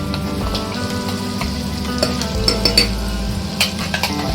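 Ground masala paste of fried coconut, coriander, green chili and ginger sautéed in oil with asafoetida for a bhindi curry: a soft, steady sizzle with repeated scrapes and clicks of a spoon stirring against the pan, no talk.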